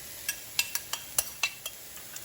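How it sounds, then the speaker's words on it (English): Carrots tossed into a pan with garlic while cooking sambusa filling, giving a soft background sizzle broken by about eight sharp clinks and scrapes of a utensil stirring against the pan, fairly faint and with no talking. "We're also gonna go ahead and toss in our carrots"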